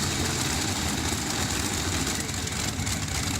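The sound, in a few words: exhibition pulling tractor with three Ranger V12 aircraft engines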